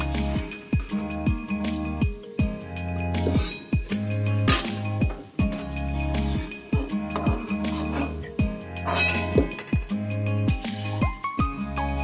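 Clinking of a metal utensil against a pan as fried sugar palm fritters are lifted out of the oil, with repeated taps over continuous loud sizzling frying noise.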